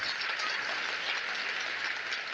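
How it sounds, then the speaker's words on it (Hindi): Crowd applause at a mass wedding ceremony welcoming brides, a steady dense wash of clapping heard alone and held at an even, moderate level throughout. "जोरदार ताली बजा करके स्वागत करो।"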